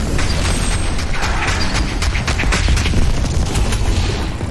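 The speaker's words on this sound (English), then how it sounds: "Heavy cannon." The heavy cannon fires in Doom Eternal, a dense rapid rattle of booming shots and explosions over game noise, loud and continuous throughout.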